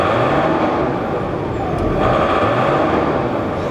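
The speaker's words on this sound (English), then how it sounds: "Give her a few revs here." A steady, loud engine roar from a car at a junkyard holds throughout, close to the microphone, with a slight swell near the middle rather than distinct separate revs.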